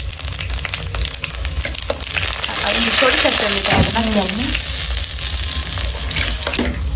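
Dried chilies and five-spice seeds fry in hot oil with a steady broadband sizzle, nearby and fairly loud, with light clinks from stirring running throughout.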